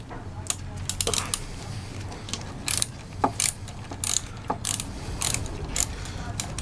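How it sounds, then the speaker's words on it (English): A 5mm Allen key turns an Allen bolt on a Yamaha XJ400Z motorcycle during carburettor and exhaust work, giving a series of sharp metallic clicks and ratcheting ticks at irregular intervals, close and fairly loud with no speech. "Takes off nice easy Allen bolt"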